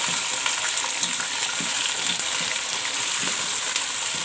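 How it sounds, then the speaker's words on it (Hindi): Chicken pieces and onions fry in oil in a pot, a dense, continuous close sizzle with faint stirring scrapes now and then. "चिकन को फ्राई करते हैं प्याज के साथ"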